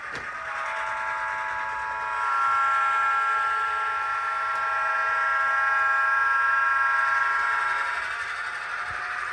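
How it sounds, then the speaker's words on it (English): A steady, sustained electronic whistle tone drones for several seconds, slightly swelling in the middle, fairly loud and alone: the pre-recorded whistle of an HO scale Athearn BNSF EMD GP38-2 diesel model locomotive with DCC sound. "It has a quillable whistle with a pre-recorded sound on function 4."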